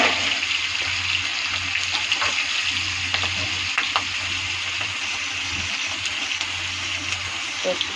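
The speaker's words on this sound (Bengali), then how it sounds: "সরষের তেলটা গরম হয়ে গেছে। এর মধ্যে আমি কাঁচা লঙ্কা," Green chilies and cumin fry in hot mustard oil, giving a steady, close hiss of sizzling that runs through the whole stretch with a few small crackles and pops and no talking.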